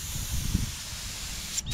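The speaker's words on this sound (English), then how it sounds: "Shame the gun doesn't spray harder." A steady, soft hiss of a paint spray gun painting a minivan bumper runs through the whole short clip, fairly close, with a slight swell midway.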